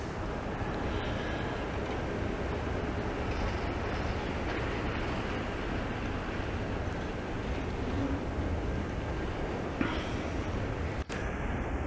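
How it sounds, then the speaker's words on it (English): A long CN freight train, more than 100 cars, rolls past in a Montreal snowstorm, making a steady, dense rumble and rattle that stays even throughout with no break. "I'm sure that this train, this CN 149, I'm sure must have even more than 100 cars probably"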